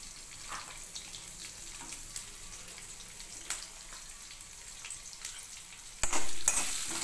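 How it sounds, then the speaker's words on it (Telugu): Onion pieces fry in a pan for a cauliflower tomato curry, giving a steady close sizzle with light scattered stirring clicks and a louder surge near the end, with no voices. "ఆనియన్స్ కొంచెం మెత్తబడినంత వరకు ఫ్రై చేసుకోవాలండి."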